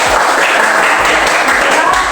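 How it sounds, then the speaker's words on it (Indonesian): Loud, dense applause from a class clapping their hands together during a lesson, a continuous rapid patter that holds steady at full strength for the whole stretch with no talk over it. "tepuk tangan dulu buat"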